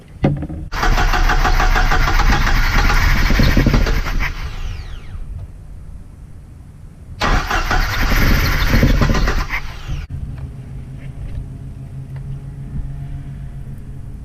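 A Jeep Wrangler TJ engine running on 70% rubbing alcohol cranks and catches with a loud, close roar, dies back, then revs again before settling into a steady low idle.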